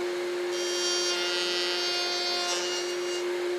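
A router bit spinning on a router table rubs against a difficult patch of wood grain on a wooden circle without cutting, giving a steady motor whine with a brighter scraping hiss swelling in the middle, close and continuous.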